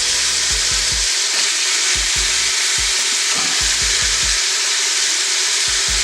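Onion tossed in with browning sausage meat for a ravioli soup sizzles loudly and continuously, while a spoon scrapes and stirs in short repeated bursts across the pan.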